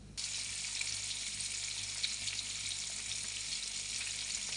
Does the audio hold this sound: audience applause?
no